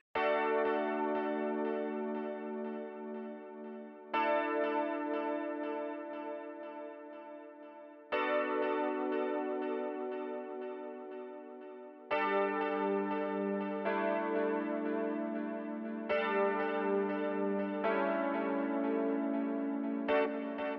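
Cover of a song: sustained synth or keyboard chords run through delay and compression, changing every few seconds with bright bell-like tones and a bouncy, spacey echo trail, played alone with no voices.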